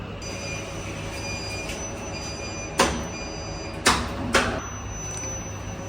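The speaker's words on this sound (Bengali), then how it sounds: "এই যে লিপটা সরাসরি নিচে চলে যাচ্ছে" A small machine-room-less lift travels down its shaft with a steady mechanical hum, broken by several sharp metallic clanks and squeals close by.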